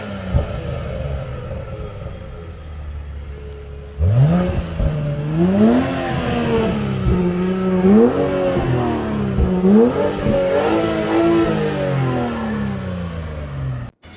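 A 2023 BMW X5 M Sport xDrive40i with a 3000 cc petrol engine and original factory exhaust idles with a low rumble for about four seconds, then gets a series of sharp, loud throttle blips that rise and fall repeatedly, close by.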